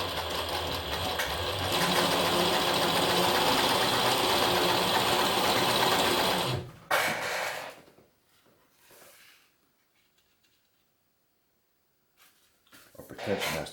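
A Singer 107W1 industrial sewing machine driven by a servo motor stitches through about three layers of sailcloth, a fast steady mechanical whirring and rattle for several seconds, then stopping, followed by quiet moments and brief handling noises.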